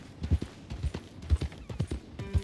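Horse hooves clip-clop steadily on a trail in Red Dead Redemption 2, a regular rhythm of about six close, moderately loud hoofbeats with no one talking.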